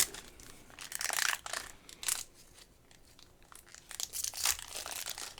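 Plastic wrapper of a DC Comics trading card pack being torn open up close, with bursts of crinkling and tearing that come and go across the clip, loudest in a couple of sharp rustling flurries.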